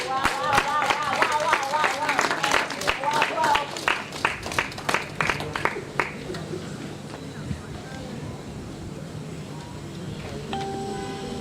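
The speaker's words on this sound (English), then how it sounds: "Let us all give a round of applause as we welcome Ms. Balu Magdalene Mansari" An audience at a Sierra Leone sponsorship signing ceremony claps to welcome a staff member, with sharp, regular hand claps over voices for several seconds before thinning into a quieter room.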